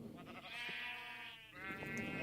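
Sheep bleating in the blocky sandbox game ScratchCraft, a few drawn-out wavering calls overlapping one another, close and fairly loud with no talking.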